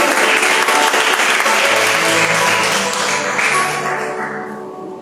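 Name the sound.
congregation applauding in church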